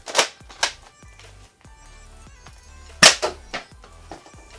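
Nerf Modulus Ghost Ops Shadow ICS-6 blaster firing foam darts, several sharp pops in two clusters with quiet gaps between, close and fairly loud with no talking.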